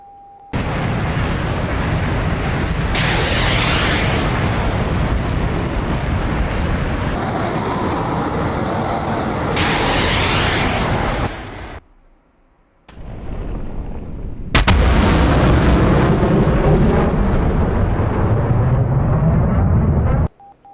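Missile launches in a DCS jet combat game: a loud, continuous rushing roar of rocket motors and engine noise, cut by a sudden drop to near silence, then another harsh, loud burst of rushing thrust, with no voices.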